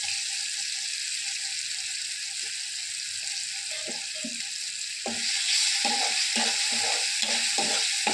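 Tomatoes fry in oil with a soft continuous sizzle, then brinjal goes in and a spoon scrapes and stirs the pan in quick repeated strokes over a louder hiss.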